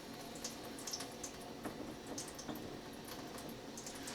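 Water pours out of a Waterdrop King Tank gravity-fed filter system, splashing steadily and closely in a constant, moderately quiet stream with light dripping on top.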